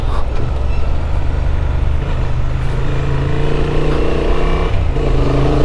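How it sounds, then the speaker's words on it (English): A Honda Transalp 750 twin-cylinder motorcycle is ridden in third gear at about 70 km/h. The engine gives a loud, steady drone under heavy rushing wind, and the pitch shifts slightly midway. "Nice and peppy twin cylinder power."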